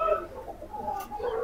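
Tonk breed pigeons make soft cooing and rustling calls close by, with irregular murmuring bird sounds and a brief burst of noise midway.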